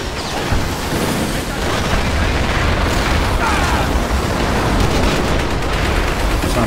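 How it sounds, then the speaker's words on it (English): Dense, continuous barrage of booming World War II video game explosions, loud and overlapping with no pauses, like heavy artillery and rocket fire. "I'm pounding that position now with rockets."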